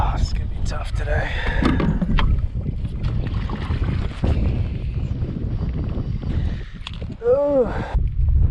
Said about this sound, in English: Like 15-mile-an-hour winds already. Crazy wind every time.